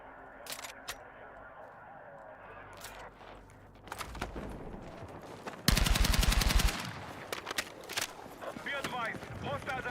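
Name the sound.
gunfire from a gun in video game Battlefield 6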